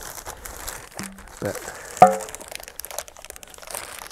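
A plastic bag crinkles and rustles in a workshop while parts for a BSA B31–B34 motorcycle rear brake pivot are handled, soft crackles with a sharper crunch midway, under brief speech.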